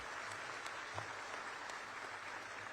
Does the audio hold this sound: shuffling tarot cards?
no